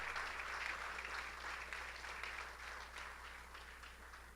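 Sustained applause from a church congregation at a Spanish-language service, steady dense clapping filling the room for several seconds at even loudness.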